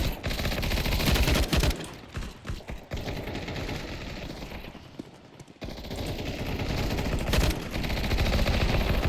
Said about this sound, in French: cette arme-là tire tellement vite que ça tire à côté